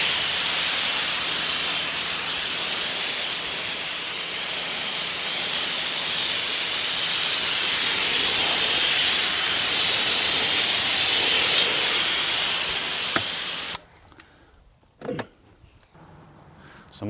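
A pressure-washer spray rinses a Honda Civic during a car wash, a steady loud hiss running for about thirteen seconds before cutting off abruptly, leaving near silence with a few faint knocks.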